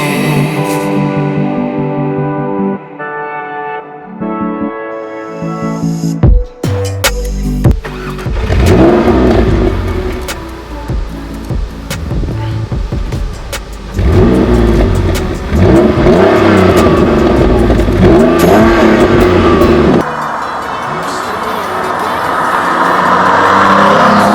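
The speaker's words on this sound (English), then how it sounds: "Tom's Mondeo is sporting the 3-litre V6 24 valve" A Ford Mondeo ST220's 3-litre 24-valve V6 engine revs repeatedly, loud and close, with sharp throttle blips and sustained high revving, preceded by a brief stretch of music.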